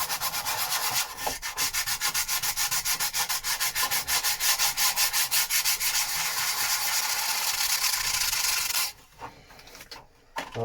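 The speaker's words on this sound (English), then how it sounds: "so I don't want to sand too much of this away, it's just to key the surfaces" Hand sanding keys a surface before gel coat, a loud, close rhythmic scrubbing in quick repeated strokes for about nine seconds, then a few scattered rubs and knocks.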